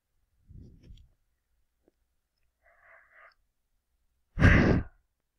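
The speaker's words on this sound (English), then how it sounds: "Sorry, that was a yawn." A soft, breathy yawn-like exhale near the mic, followed by a faint murmur and then a louder, longer breathy burst, all with silent gaps between.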